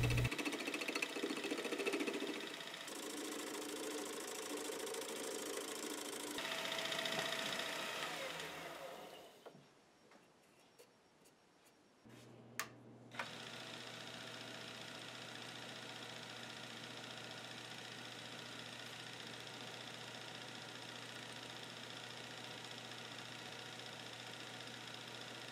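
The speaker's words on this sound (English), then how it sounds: "I'm just going to do very, very light cuts on here just to square up the final end here" A metal lathe runs steadily while making very light facing cuts to square up the end of a part for a dial indicator magnetic mount; a droning motor hum shifts partway through, with a few sharp clicks before settling into an even whir.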